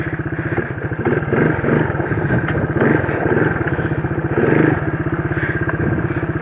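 A Yamaha YTM225 three-wheeler runs at close range off road with a loud, fast, steady single-cylinder putter that swells slightly as the throttle opens and eases.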